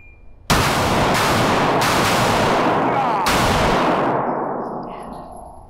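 Gunshots ring out at a shooting range, where a shooter fires at a single target from five yards: a few sharp, loud reports spaced about a second apart, each trailing into a ringing echo that slowly fades.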